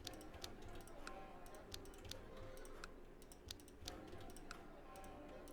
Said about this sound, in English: What I'm doing is just clicking and pressing V.